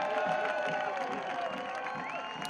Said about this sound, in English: So Arteaga gets a nice applause